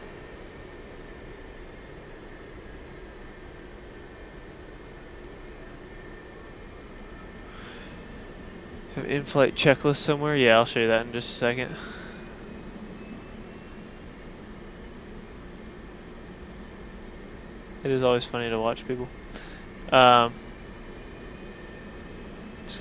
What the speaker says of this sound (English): the left engine is still spooling up